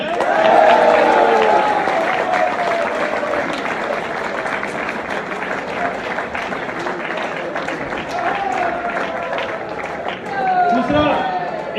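A crowd at a Safe Shop business meeting claps loudly and steadily, with cheering and voices mixed throughout. The applause swells again near the end.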